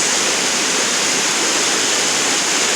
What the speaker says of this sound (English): These are Dunn's Falls.